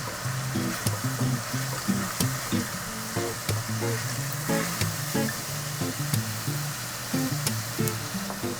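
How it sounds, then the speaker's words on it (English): Ground beef and yellow onions frying for mapo tofu, a steady close sizzle with intermittent stirring, heard alongside background music. "Now that the beef is browned and the onions are starting to get a little bit more translucent"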